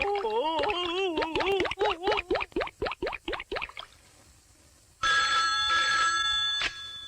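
A telephone rings in a rapid series of electronic trills, fairly loud and close, then stops; after a pause a brighter, hissing burst of sound follows, with no talk over the ringing.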